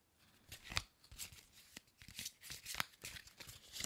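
Oracle cards being shuffled by hand during a reading, a quiet run of crisp riffling flutters and soft slaps in irregular bursts, close and alone with no talk.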